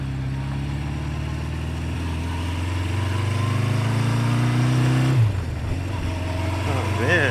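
A 1976 Honda CB550 motorcycle engine runs steadily while riding, its droning note climbing with speed, then dropping sharply around a gear change before it revs again; a voice is briefly heard over it.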